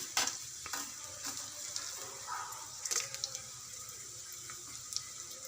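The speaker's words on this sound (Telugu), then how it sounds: "కొద్దిగా ఫ్రై అవ్వాలి ఇంకో రెండు ఎండుమిరపకాయలు వేయాలి" Dried red chillies and urad dal frying in oil for tomato coriander chutney: a steady, faint crackling sizzle with occasional sharp utensil taps and stirring scrapes, close and continuous, without talking.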